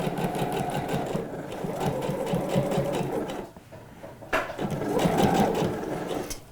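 A sewing machine stitches backstitches into a seam on Alfie-pattern trousers. There is a steady, close whirring run, a brief pause with a single click, and then the stitching resumes at full speed.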